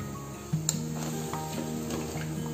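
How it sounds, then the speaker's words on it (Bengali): Warm water goes into fried chinigura rice in a rice cooker, bringing a soft steady sizzle and faint hum, with a light clink of a utensil near the start. "এই জলটা আমি এখানে দিয়ে দেবো এখানে, এবার পুরো যেহেতু জলটা একটু গরম করে গেছিলাম আমি, এই জলটা পুরোটা দিয়ে দেবো"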